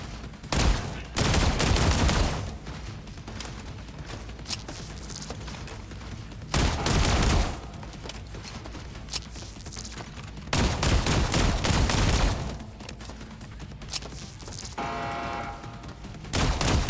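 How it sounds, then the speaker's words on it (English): Assault rifle fire in a video game: loud bursts of rapid automatic shots in several spaced volleys, with quieter game sounds between them. "let's use the assault rifle now."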